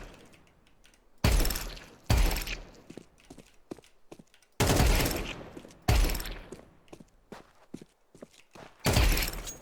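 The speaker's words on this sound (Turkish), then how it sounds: "Böyle böyle vuruyorsunuz" Bursts of rifle gunfire from Counter-Strike 2, with loud, sharp volleys separated by quieter stretches of footsteps and in-game movement, while nobody speaks.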